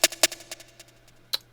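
A dry, unprocessed snare drum from a hip-hop beat strikes several times in an uneven pattern, each hit a bright, crisp crack with a short ringing tail, set over a faint steady low hum, with a final sharp hit after a pause.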